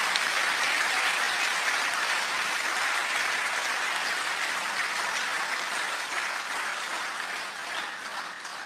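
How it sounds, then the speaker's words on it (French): Audience at the National Assembly of Côte d'Ivoire giving sustained applause, a dense even wash of many hands clapping that slowly fades toward the end, with no talk. "Second bon applaudissement pour Adama Bictogo."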